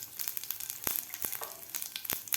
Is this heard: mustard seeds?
yes